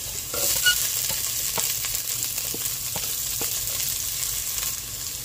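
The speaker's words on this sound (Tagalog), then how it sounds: "Unahin natin yung mantika, sunod natin yung garlic, sunod natin yung luya, at isunod na rin natin yung sibuyas." Garlic, ginger and onion fry in hot oil with a close, steady sizzle broken by light crackles and the occasional tap of a utensil in the pan, no talking.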